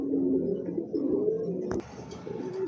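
White and black Gorra pigeons coo in soft, rolling low calls close to the listener, with a sharp click or knock partway through before the cooing resumes.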